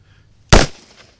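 A single sharp, loud report from a .357 Magnum handgun, close up, with a short decaying echo afterward and no talking.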